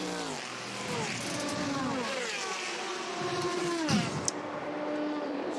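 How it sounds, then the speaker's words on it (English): Le Mans race cars at the 24 Hours of Le Mans, 2014, sweep through the Indianapolis corners in a series of rising and falling engine notes as several cars pass one after another at moderate distance. "you see the cars coming down through Indianapolis, iconic area of the circuit"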